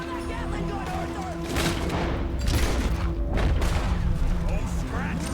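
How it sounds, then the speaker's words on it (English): Gatling gun fire and explosions boom through a Red Dead Redemption 2 firefight, sounding as dense volleys and heavy blasts under a steady tonal background while voices speak. "Get on that Gatling gun, Arthur."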